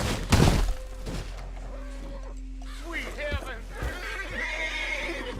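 A horse in Red Dead Redemption 2 whinnies amid game sounds, with a few hoof clops and thuds, while someone talks over it; the neigh rises midway and trails off near the end.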